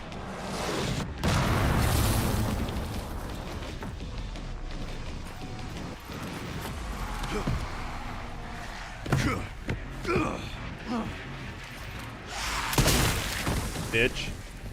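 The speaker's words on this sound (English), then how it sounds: "I think I'm gonna have to use the mortar to kill the other mortar" Booming mortar shell explosions and crashes in a video game, heavy and layered amid constant battle noise, with several loud impacts and a voice talking throughout.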